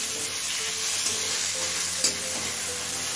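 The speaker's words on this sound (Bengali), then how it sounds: "এবার টমেটো নরম হয়ে আসা পর্যন্ত ভেজে নেব।" Chopped tomato frying in a pan for a spicy chicken masala pasta sauce, giving a steady, close hiss of sizzling oil that runs unbroken and fairly loud, with a faint low tonal hum underneath and one brief clink near the middle.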